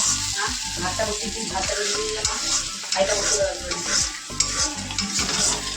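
Ash gourd curry being stirred in an oily pan, a close, continuous sizzle broken by repeated scraping strokes of the spoon at an irregular rhythm, with no voices.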